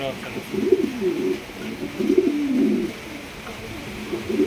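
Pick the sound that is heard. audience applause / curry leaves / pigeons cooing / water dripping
pigeons cooing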